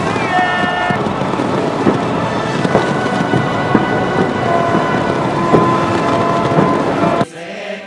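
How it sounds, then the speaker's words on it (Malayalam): New Year fireworks in Auckland, New Zealand crackle and boom continuously in a dense, roaring wash with scattered sharp bangs, then the noise cuts off abruptly near the end. "വെടിക്കെട്ടോടെയാണ് ന്യൂസിലൻഡ് ജനത പുതുവർഷത്തെ വരവേറ്റത്"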